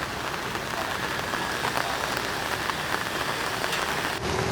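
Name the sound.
rain falling beside a road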